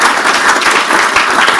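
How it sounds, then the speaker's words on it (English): Audience applause for the moderators at a health innovation conference, a loud, dense burst of clapping from a crowd, close and continuous for the whole moment. "A round of applause for moderators."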